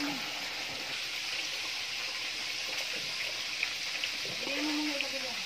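Strong water gushes steadily from a hand pump at a lakeside countryside gathering, a loud continuous rush with voices talking faintly underneath.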